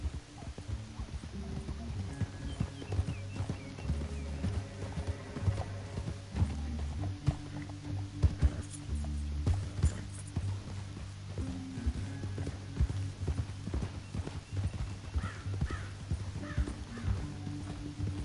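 Horse hooves clip-clop at a steady walking rhythm in Red Dead Redemption 2, with an occasional snort, moderately loud over a low game backdrop.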